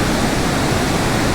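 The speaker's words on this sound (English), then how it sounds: "Normally there's like no water running over them, but yeah, now it's flowing." Water pouring over a small dam in a stream beside a bicycle trail, a steady, loud broadband rush that runs without a break and with no voices.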